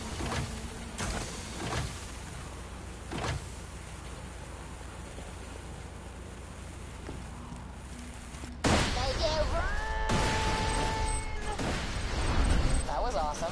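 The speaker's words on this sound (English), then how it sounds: "Put the rest of Tina's explosives on those safes and watch the fireworks." Explosive blasts in Borderlands 2 as charges blow up safes on a payroll train, a sudden loud burst near the end followed by crackling debris and ringing tones over steady game noise, with earlier thuds.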